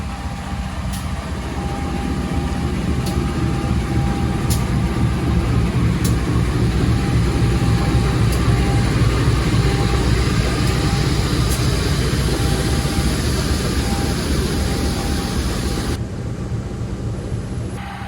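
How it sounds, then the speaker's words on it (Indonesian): KA Airlangga passenger train on the Pasar Senen to Surabaya Pasar Turi route pulling away from a station, a loud steady rumble of engine and rolling wagons filling the whole stretch, with faint sharp clicks recurring over it. "Keretanya berangkat teman-teman."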